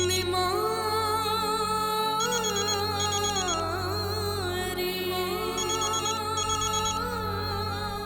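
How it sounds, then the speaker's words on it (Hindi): A telephone in a family home rings with a melodic electronic ringtone, the tune repeating loudly and continuously for about eight seconds, with no one talking. "संदर दा फोन है"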